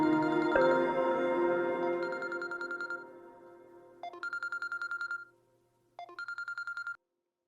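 A telephone is dialed, giving a few bursts of rapid, evenly spaced beeping tones separated by short gaps, and a fading ringing sound at the start.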